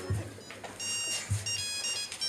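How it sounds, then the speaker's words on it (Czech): A mobile phone sounds a reminder alert during a comedic camp skit of Cinderella, giving a short repeating electronic ring of bright tones over a muffled room background, with no talk. "V tom mu zazvonil mobil s upomínkou."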